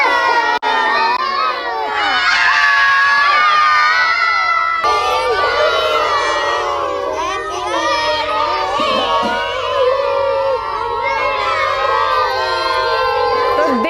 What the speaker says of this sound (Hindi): लगातार 5 मिनट तक सिर्फ हूटिंग ही हुई है